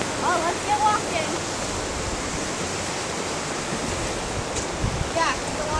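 A loud, steady, broadband rush of a waterfall on a hiking trail fills the whole stretch, with brief voices of people talking near the start and the end.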